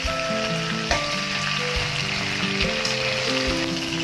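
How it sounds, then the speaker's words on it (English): Doddapatre (Indian mint) leaves frying in a pan, with a steady, loud sizzle and crackle running throughout, with a few soft knocks and no talking. "Fry nicely. The leaves gets very soft and the whole room is filled with that aroma."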